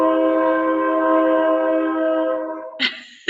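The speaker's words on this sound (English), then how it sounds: "Let's wait for the train." A train horn blares in a long, loud sustained chord close by, then cuts off, followed by a couple of short clanking rail bursts as the train passes.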